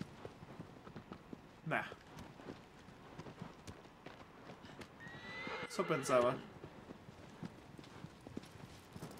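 Horse sounds from the video game Shadow of the Colossus: a whinny and hoof clip-clops on a faint, low bed, with a louder burst near the end, under brief talking.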